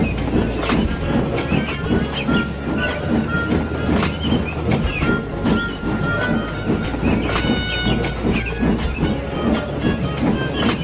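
A train rushes past close by, a loud continuous roar and growl of the engine and wagons with rhythmic clickety-clack of wheels on rails throughout.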